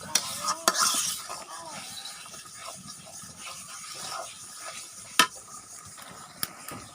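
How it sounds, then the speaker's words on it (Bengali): Chopped tomato stirred into a sizzling spice paste in a pan, with soft scraping and a steady frying hiss, punctuated by a few sharp clinks of a utensil against the pot. "কষানোর ভিতরে টমেটো কুচি দিয়ে দিচ্ছি, এগুলি গলে যাক।"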